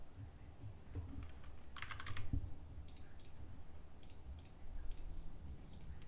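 Fingers type on a computer keyboard while entering account details, producing quiet, close clusters of rapid key clicks with short pauses between bursts.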